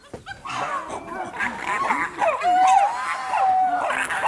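Chimpanzees squabble over food at Ngamba Island sanctuary in Uganda, giving loud, overlapping shrieks, hoots and screams in a dense chorus, with people talking throughout.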